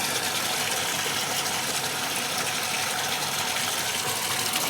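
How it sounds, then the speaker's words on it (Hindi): Water gushes hard and continuously from a borewell into household vessels, a loud, close, steady rushing splash with no voices. "तो देखो कितना सारा पानी हमारे बोर से निकलता है, और मैं सारे बर्तन भी भर लूँगी"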